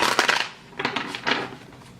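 A deck of tarot cards being shuffled in three quick bursts of riffling and sliding, close and fairly soft, with brief pauses between them.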